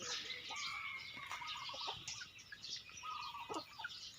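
Ducks and chickens cluck and birds chirp together in a busy, continuous outdoor chorus, with scattered calls overlapping throughout and no talking.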